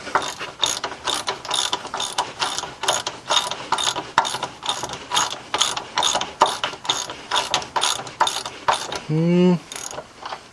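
Ratchet wrench loosening a bolt on the front control arm of a BMW E46 325i, a loud close rapid clicking in steady rhythmic bursts throughout, with a short voice near the end.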